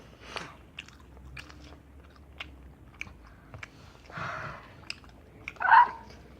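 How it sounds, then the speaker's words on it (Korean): Close-up crunching bites and wet chewing of a fried chicken drumstick with soft, not very crispy skin and tender meat, scattered crisp snaps and a louder burst of chewing near the end. "얘는 껍질이 많이 바삭하진 않지만, 안에가 너무 부드러워서 먹기가 좋아요."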